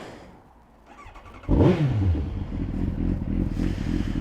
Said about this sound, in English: Let's start the bike up.